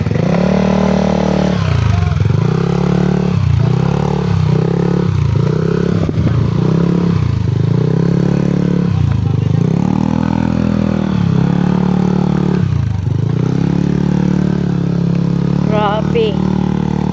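A battered, beat-up motorcycle engine revved repeatedly on the road, loud and close, with a rhythmic series of throttle blips rising and falling over a rough, clattering idle. Voices chatter faintly underneath.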